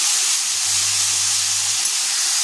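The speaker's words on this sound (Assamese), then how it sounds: "এতিয়া শাকখিনি অকণমান গলি যোৱালৈকে ভাজি লওঁ।" Leafy greens fry in a hot pan, giving a steady, bright, close sizzling hiss that continues unbroken, with a faint low hum running briefly beneath it.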